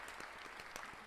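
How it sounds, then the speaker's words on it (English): A short, faint burst of crowd applause from the video game Sucker for Love, a dense spattering of many hands clapping at once. "Round of applause."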